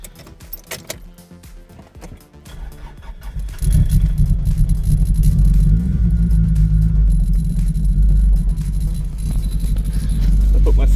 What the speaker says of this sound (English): still misfiring really badly